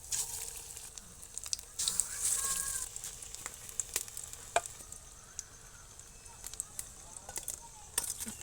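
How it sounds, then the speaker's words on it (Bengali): Egg pakoras frying in hot oil give a soft, steady sizzle with light crackles, while sharp clinks of a utensil on the pan cut through now and then. "এই যে ডিমগুলো আছে সেগুলো আবার বেজে নেবো"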